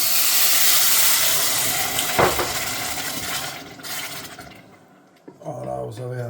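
Cold Volvic mineral water hits a hot pan of rice pilaf, giving a loud steamy hiss that fades over several seconds. A voice speaks right at the end.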